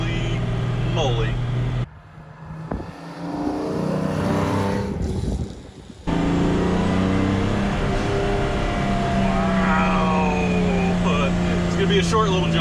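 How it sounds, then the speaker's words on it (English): An original 1955 Mercedes 300 SL Gullwing being driven: a loud, continuous engine drone close by that briefly dips and returns, with someone talking excitedly over it. "this is an original Survivor 1955 300 SL Gullwing worth millions of dollars. Millions of dollars, and I'm driving it"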